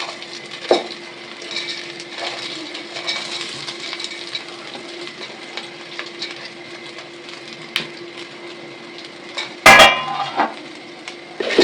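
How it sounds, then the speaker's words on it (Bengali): Basanti rice being fried and stirred in a pan with oil and cashews, a soft sizzle under repeated spatula scrapes and a loud metallic clatter near the end. "বাসন্তী রাইসটাকে ভালো করে ভেজে নিতে হবে।"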